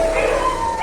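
Dogs at a large home kennel housing about 400 dogs give a thin, drawn-out whimpering whine, high and wavering, held for under a second at moderate loudness.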